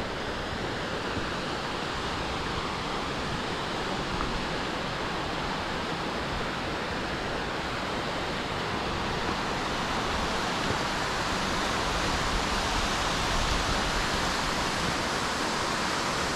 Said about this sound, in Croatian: jedan prekrasan vodopad